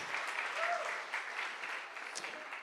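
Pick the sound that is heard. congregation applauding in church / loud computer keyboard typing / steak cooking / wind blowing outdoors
congregation applauding in church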